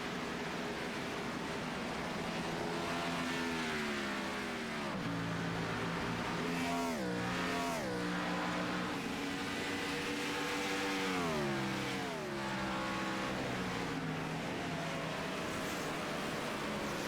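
Race cars circle the Watkins Glen road course in New York during a 2005 stock car race, their engines droning continuously with rising and falling pitch as they shift and pass, steady and moderately distant.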